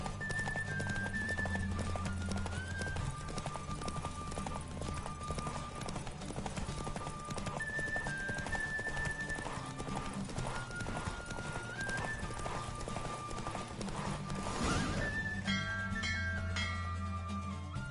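Horse hooves clip-clop steadily through a race in The Witcher 3 on PS5, with occasional neighs and whinnies over a continuous bed of game music.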